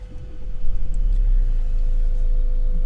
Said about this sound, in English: So let's turn on this car.